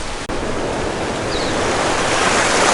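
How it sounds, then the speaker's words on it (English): Surf crashes on an island shore in the Torres Strait, a steady, loud rush of breaking waves with wind that carries on throughout, close and unbroken by voices. "you can hear the waves crashing just over there"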